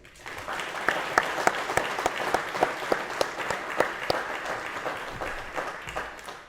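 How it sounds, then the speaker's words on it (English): Applause for award recipients at a law enforcement training graduation ceremony, a crowd clapping together in a warm, sustained burst that tapers off toward the end. "Please join me in giving the award recipients a round of applause."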